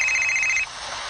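A telephone rings briefly with a bright electronic tone that holds for just over half a second before cutting off. No one speaks.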